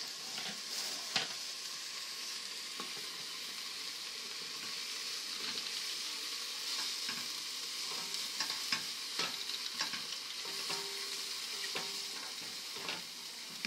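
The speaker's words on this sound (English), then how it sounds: "Do you want to give it a stir?" Mushrooms are stirred into a pot of simmering chicken curry, a steady bubbling sizzle broken by repeated clicks and scrapes of a spoon against the pot, with no speech.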